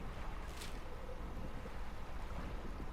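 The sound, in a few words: boat engine, wind and waves in the DREDGE video game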